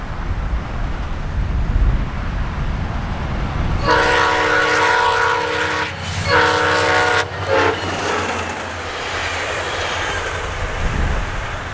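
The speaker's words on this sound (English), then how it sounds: "Here came northbound SunRail P316, using every bit of track speed as it made its way towards DeBary." Northbound SunRail commuter train P316 passing at track speed near Poinciana, Florida, sounding a loud two-part horn blast while its roar swells close by, then fades to a distant rumble.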